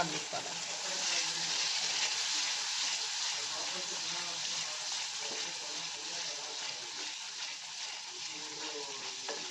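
Chili powder and turmeric fry in a pan with yogurt, giving a loud, continuous hiss of sizzling that holds steady from start to finish.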